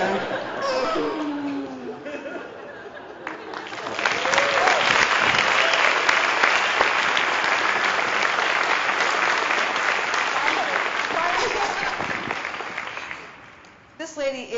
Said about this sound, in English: Please give her another round of applause to Margaret.